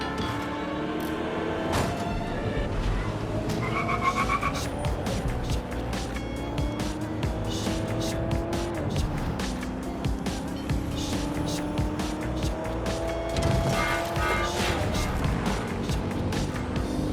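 A car driven on auto drive in Watch Dogs: Legion, a steady engine hum with shifting pitch, occasional tire noise and clicks, continuous and close throughout.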